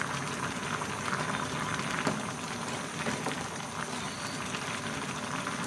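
Fish curry with pickled bamboo shoots boiling in a pot, giving a dense, continuous bubbling and simmering that stays steady and close throughout, with no voices.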